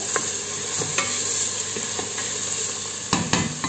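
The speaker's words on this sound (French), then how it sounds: "Donc je fais revenir mes oignons, je vais rajouter mes carottes avec." Chopped onions and carrots sautéing in a pan give a steady close sizzle, with a few scrapes and stirs of a utensil against the pan.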